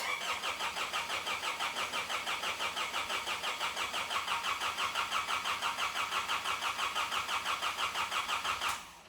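A Nissan Patrol's engine, freshly reinstalled, cranks and catches, then runs with a loud, rapid, regular pulsing beat close by for several seconds before cutting off abruptly at the end, with no talking.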